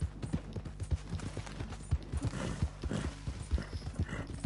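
A horse trots toward Strawberry in Red Dead Redemption 2, its hooves making a steady, rhythmic clip-clop with soft jingling tack at moderate volume and no talking.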